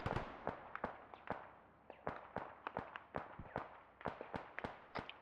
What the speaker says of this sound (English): We're just shooting at dudes.